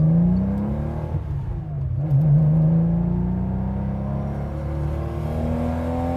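A 1971 Porsche 911T engine revs hard and climbs steadily in pitch, a loud, close, sustained howl that dips briefly as the gear changes and then rises again, with no talking.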